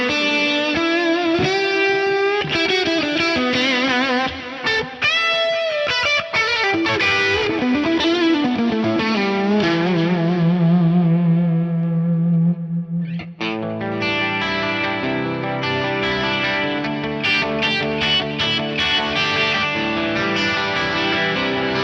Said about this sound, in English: if I wanted a delay on there, I might use this quad tap delay